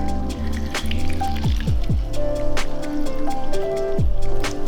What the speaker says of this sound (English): place half of your lemon inside your juicer, like so. Then, you're going to juice it over your jigger.